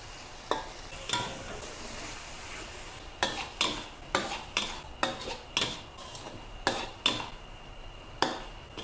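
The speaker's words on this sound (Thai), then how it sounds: "แล้วก็ลองผัดนะคะ" Burmese-style chili paste with canned fish is stir-fried in a pan, a utensil scraping and knocking against the pan in a rapid, uneven series of close, crisp strokes over a low sizzle.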